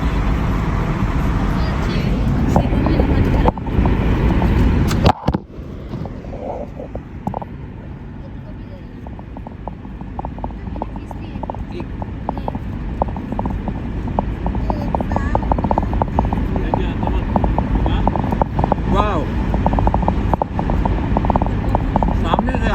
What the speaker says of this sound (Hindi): हमारी गाड़ी भी उनके पास से झर्र से निकल जाती है